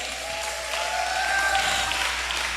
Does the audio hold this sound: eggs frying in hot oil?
no